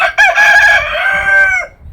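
A rooster crows loudly and close by, one drawn-out call with a sharp start and a falling tail, alone with no voices.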